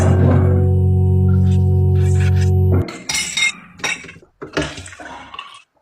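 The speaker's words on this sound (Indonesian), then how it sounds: "Jadi melihat dia cuci piring, aku langsung bangun." Dishes being washed at home: a loud steady running-water or motor drone first, then close clinks and clatters of plates and cutlery in irregular bursts.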